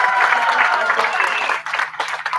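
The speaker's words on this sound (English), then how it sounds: "I think the laughter and the applause from the audience has said it all" An audience at an Independence Day and hospital anniversary celebration applauds, dense steady clapping close and loud, thinning slightly toward the end.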